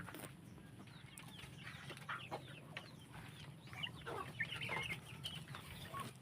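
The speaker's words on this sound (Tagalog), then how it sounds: "So ito naman ay halong native chicken." Native chickens on a farm cluck steadily and close by, with scattered bird chirps and light rustling over a constant low hum; no one speaks.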